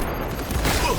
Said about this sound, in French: Oui, ils envoient des grenades, les fous.